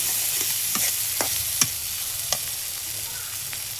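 Prawns fry and get stirred in a pan for a Bengali potato and pointed gourd curry, a steady sizzle carrying a few sharp scraping clinks of the spatula, close and alone with no voices.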